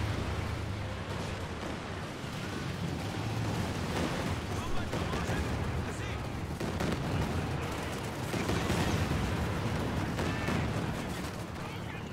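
Battlefield din from the real-time strategy game Company of Heroes 2, with grenade blasts and gunfire rolling continuously through a dense, loud mix, overlaid by a commentator speaking throughout.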